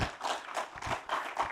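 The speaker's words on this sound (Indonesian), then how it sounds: "yang paling keras tepuk tangan kawan-kawan PDIP" An audience of PDIP party members applauds at a political speech, a short patter of brisk clapping at moderate volume without voices.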